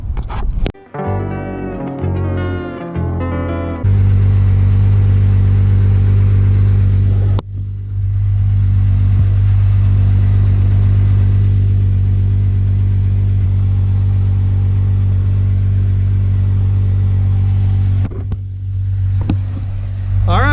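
A Volkswagen Corrado engine idles steadily after a fuel leak repair at the filter, a loud, even low hum that holds for most of the run, preceded by a brief burst of varied noise and ending with a few clunks.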